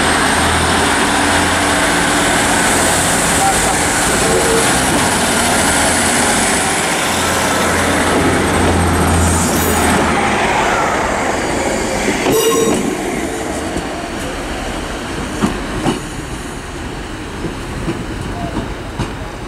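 ScotRail unit 156474 pulls out of Carlisle for Dumfries with a loud, close rumble and high wheel squeal that ease off into lighter rail clatter and fade toward the end.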